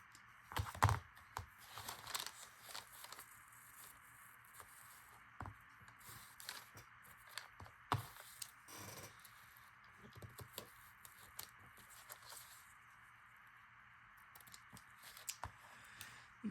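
Worn scissors, used for years without sharpening, cut a square piece of pink lace in a series of quiet, irregular snips and crinkles, close and faint, with paper rustling between cuts.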